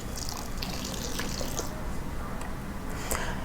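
Hot water pours steadily into a bowl of soybeans with a broad, hissing splash, continuing evenly for a few seconds with faint clinks near the end.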